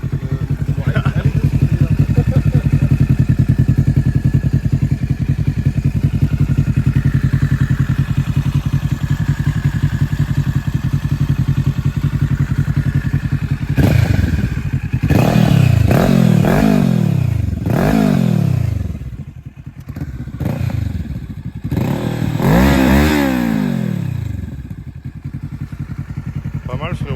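A Kawasaki Ninja 650 40th Anniversary Edition with an aftermarket exhaust line drones steadily while cruising, then snarls through a series of sharp rising revs and shifts, close and loud, with riders talking intermittently over it.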